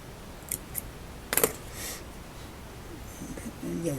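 Scissors snip through thread at a fly-tying vise: a couple of small light clicks, then a crisp close snip in a quiet room.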